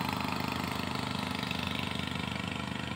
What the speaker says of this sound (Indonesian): ini ada perahu lagi teman-teman.